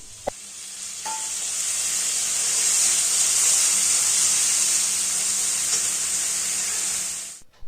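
Chopped tomatoes hit a hot pan for a Bengali eggplant and mola fish chochori, setting off a loud, steady hissing sizzle that holds for about seven seconds before cutting off abruptly, with a couple of faint clinks near the start.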